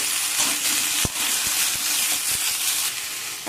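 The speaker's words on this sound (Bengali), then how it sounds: "দিয়ে আবারও সব কিছুকে আমি নাড়াচাড়া করে নেব" Eggplant and spinach sizzle loudly in a hot pan, a steady frying hiss broken by a few sharp scrapes and taps as the vegetables are stirred.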